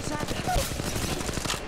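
Close, continuous automatic gunfire rattles in a firefight in the mobile shooter Apex Legends Mobile, a dense unbroken stream of rapid shots with game sounds layered beneath.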